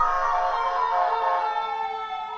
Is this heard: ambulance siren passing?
yes